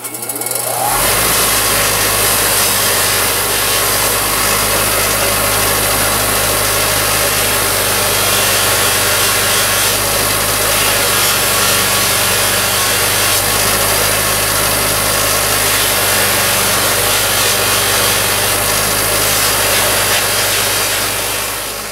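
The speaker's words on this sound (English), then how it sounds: "Okay, I'm going to buff this up now." A power buffer runs steadily on a wooden rubber band gun, giving a loud, continuous motor whine and hum with broadband friction noise for the whole stretch, and no talking.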